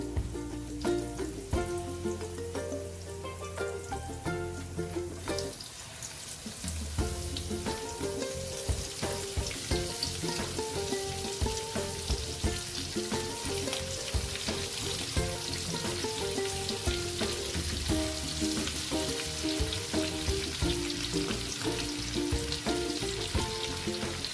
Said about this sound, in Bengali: রসুন হালকা লাল লাল ভাজা হয়ে গেছে। এখন আমি মাছগুলোকে দিয়ে দেবো।